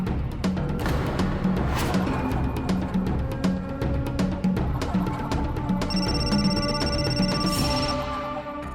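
A telephone rings in a home in an Indian crime drama, with repeated ring pulses sounding steadily through the clip over a continuous music bed.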